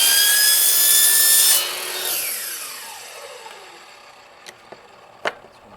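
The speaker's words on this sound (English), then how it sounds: "I'm just using another wood blade here, but finer blade would be better" A wood saw blade rasps through a plastic rain gutter being cut into a pigeon loft perch, a loud close grinding that drops off after a second and a half and trails into faint scrapes and a few sharp knocks.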